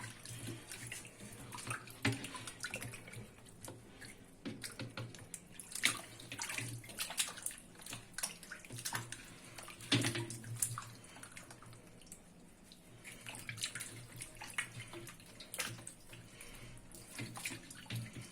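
Water sloshing and splashing while blackened cookware soaks and is washed, irregular close splashes and drips rising and falling over about eighteen seconds.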